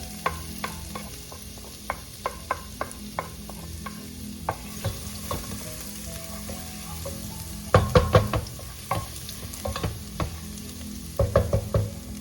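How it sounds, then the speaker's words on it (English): Garlic sautéing in oil for a Filipino chicken noodle soup, a steady soft sizzle with repeated clicks and scrapes of a utensil stirring the pan, a few louder clattering bursts near the end, with no talking. "I think we have enough oil to start sauteing now"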